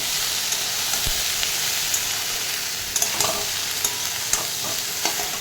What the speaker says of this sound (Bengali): দিয়ে এখন ভাজা করছি।